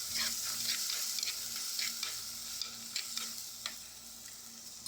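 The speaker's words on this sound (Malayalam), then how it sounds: "നന്നായിട്ടൊന്ന് വഴറ്റിയെടുക്കാം." Crushed ginger, garlic, and green and dried red chillies sautéing in a pan, with a steady close sizzle and light scraping stirs throughout, no talking.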